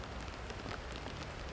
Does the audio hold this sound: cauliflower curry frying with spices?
no